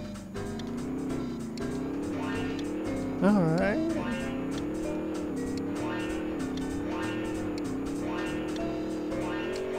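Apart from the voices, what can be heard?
car driving in video game Rocket Robot on Wheels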